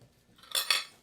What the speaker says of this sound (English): Oh, about to drop my fork.